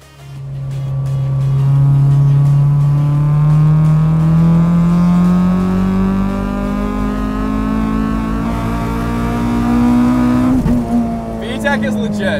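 A naturally aspirated Honda VTEC engine in a 9,000 rpm Acura RSX with about 250 wheel horsepower revs hard, its pitch climbing steadily for around ten seconds before easing off, loud and close.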